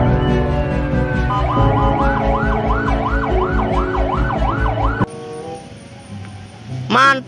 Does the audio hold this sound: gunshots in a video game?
no